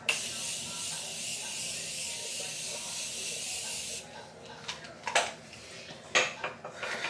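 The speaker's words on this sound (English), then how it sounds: "I'm gonna go in with the Morphe spray." A continuous hissing spray of Morphe makeup setting spray runs for several seconds, then stops, followed by a few light clicks and taps.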